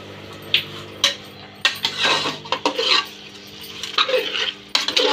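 A utensil scrapes and clanks against a pan while mutton curry is mixed into its gravy, with irregular metallic knocks and soft sizzling over about five seconds.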